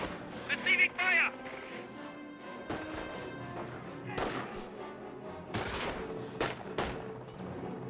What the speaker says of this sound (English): Incoming gunfire!